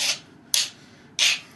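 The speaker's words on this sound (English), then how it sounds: "I have to file it and waste all this copper, otherwise I just hammer it." A file rasps across a copper flintknapping tool in a shed at night, giving three separate harsh scraping strokes, each close and fairly loud with short pauses between them.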